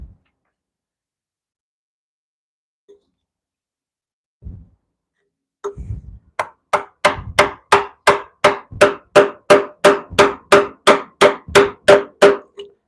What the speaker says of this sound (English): Back to the chisel for a minute, because now we've established some knife walls we can chisel up to.